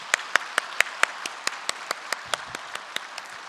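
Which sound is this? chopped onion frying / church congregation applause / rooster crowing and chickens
church congregation applause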